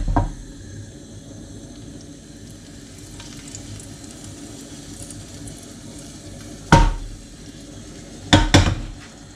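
A crushed garlic clove fries in olive oil in a pan, a soft steady sizzle punctuated by a few sharp clanks of a utensil against the pan near the end.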